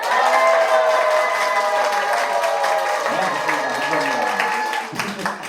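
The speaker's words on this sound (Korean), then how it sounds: "함께 가실 분은 함성과 박수" A seated audience at a Korean senior recreation class cheers and claps together, a loud wash of shouts and hand claps with a sustained vocal tone on top that thins out near the end as a voice begins.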